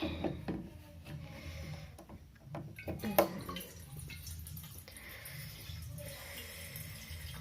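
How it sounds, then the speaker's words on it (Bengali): Water runs from a kitchen tap in a dim home kitchen, with intermittent splashing and drips broken by a few sharp clatters, moderately close and fairly quiet. "এবার আমরা জল নেব জলটা নিয়ে নিই"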